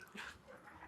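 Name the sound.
puppy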